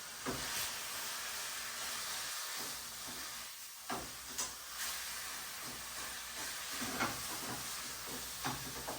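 Ground beef for taco meat sizzles and browns in a pan, a constant soft hiss punctuated by repeated light scrapes and taps as the meat is broken apart; quiet overall, no speech.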